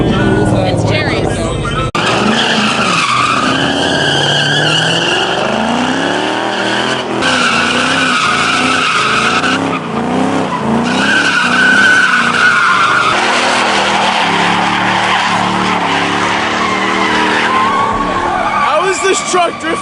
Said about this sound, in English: this truck drifting better than a